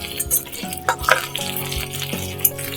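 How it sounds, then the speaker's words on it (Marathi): Finely chopped garlic and green chili sautéing in hot oil, a steady close sizzle with light stirring scrapes and clinks, heard alone without talk. "बारीक चिरलेलं लसूण आणि मिरची. तर 2 मिनिटं आपण हे तेलात परतून घेऊया"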